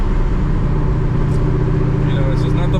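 Heavy, steady engine drone fills the cabin of a straight-piped 2003 Mustang GT, a loud continuous low rumble with faint higher whines on top, no pauses throughout.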